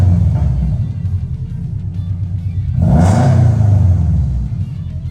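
A Subaru WRX engine rumbles steadily at low speed as the car pulls into a shop, with a brief rise in revs and a whooshing swell midway before it settles back down.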